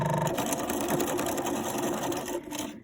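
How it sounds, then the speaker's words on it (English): A home sewing machine runs steadily while sewing and backstitching the start of a fabric gift bag seam, a close, continuous motor whir with needle clatter that slows briefly near the end. "I'm going to sew and back stitch just that first 3/4 of an inch"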